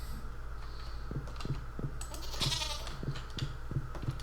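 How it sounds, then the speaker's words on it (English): A goat bleats in the Stardew Valley farming game, a nasal cry over an even run of soft, regularly spaced clicks. "Pet Lasers the goat and LaBeef the cow"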